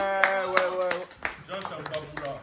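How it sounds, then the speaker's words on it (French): An audience claps along in sharp, regular beats under loud sung and spoken voices, the claps thinning out as the singing breaks into talk. "Applaudissez pour Jonta"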